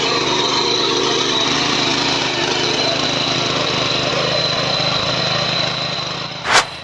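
A small tilling machine's engine runs steadily and loudly throughout, a continuous mechanical drone, ending with a brief sharp burst near the close.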